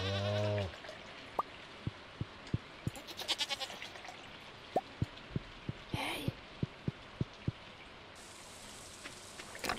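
Goat bleat opens a Stardew Valley farm scene, followed by a steady string of short, evenly spaced game clicks and chimes over a soft rain-like background hiss.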